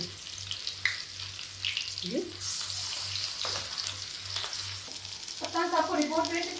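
Corn pakoras frying in a pan give a steady, close sizzle through the whole stretch, with stirring scrapes and a brief watery patch near the end.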